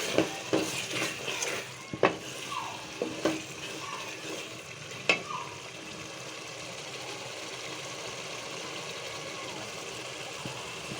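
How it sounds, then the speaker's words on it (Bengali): Masala spices sautéing in oil for a chicken curry with ash gourd, a soft continuous sizzle with a few sharp spoon scrapes and knocks against the pot early on, then a quieter steady hiss. "ভালো করে কষানোর জন্য ঢাকনা দিয়ে ঢেকে রাখবো। আমার মশলা কষানো হয়ে গেছে দেখুন।"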